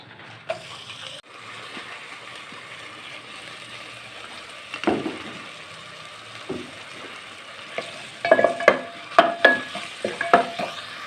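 Onion frying in ghee in a cooking pot, a steady low sizzle that builds into a cluster of louder clinks and stirring scrapes toward the end, close and without speech.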